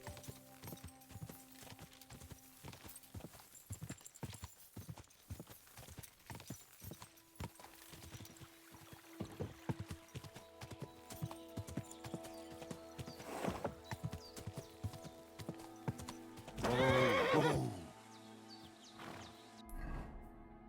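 A horse gallops with steady, rapid hoofbeats in Kingdom Come Deliverance 2, then gives a loud, brief neigh near the end over game ambience.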